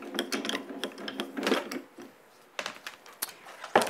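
Die-cutting machine feeding a cutting sandwich, a die with cutting ridge against a cutting plate, through its rollers for a card aperture, giving a close run of rapid mechanical clicks and grinding rattles, irregular and alone without talking.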